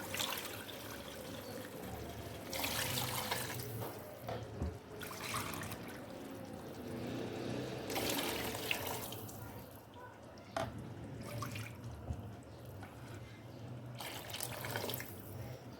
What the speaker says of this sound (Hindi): बाकी मैं पानी डाल लूँगी अब